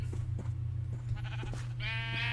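Minecraft sheep bleating in a farming game, several short bleats scattered over a steady low background hum, with a clearer, more drawn-out bleat near the end.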